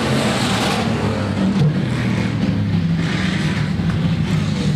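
Hobby stock race cars in a heat race at Rapid Speedway, a steady, loud engine roar from several cars running together that holds evenly throughout with no speech.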